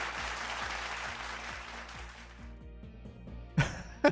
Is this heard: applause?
yes